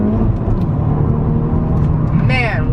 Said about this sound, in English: Let's give it a little gas and see how it accelerates.